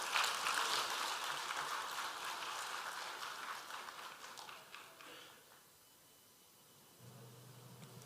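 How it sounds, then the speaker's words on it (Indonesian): Audience clapping at an international seminar on Bugis-Makassar character principles, steady dense applause for several seconds that fades out, followed by a low hum. "Sekali lagi beri tepuk tangan yang meriah untuk Profesor Makoto Ito"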